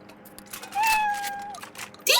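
A cat gives a single drawn-out meow close to the microphone, with faint background chatter before it and a brief sharp sound right after.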